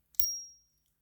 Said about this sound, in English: This one has a nice little ping.